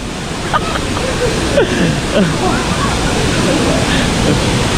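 Bulawan Falls waterfall with water dropping against a rock wall, a loud, constant broadband rush, with a few faint voices and brief tonal sounds over the roar.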